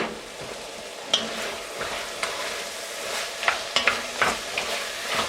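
Carrots and celery sweating in a pot for hamburger rice soup, a soft steady sizzle punctuated by irregular spoon clicks and scrapes against the pot, close and without voices.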